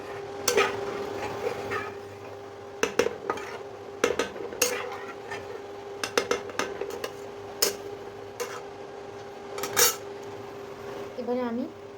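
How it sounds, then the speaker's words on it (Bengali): A spoon stirs a fish curry in a metal pan after water is poured in, with repeated clinks and scrapes against the pan over a low bubbling sizzle, close by and fairly quiet. "একটু নাড়াচাড়া করে দেবো।"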